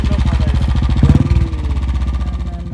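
A motorcycle engine idles nearby in a steady, throbbing pulse, briefly rising in a short rev before settling back to a regular chugging idle.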